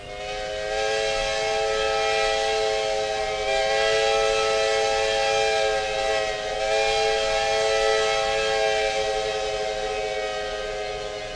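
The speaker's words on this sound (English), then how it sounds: "It's one from Australia, the Victorian Railways 5 chime." A Victorian Railways five-chime steam whistle from Australia, played in a train video game, sounds as one long, loud, sustained chord with rich harmonic tones, steady apart from slight dips in level, with no voices.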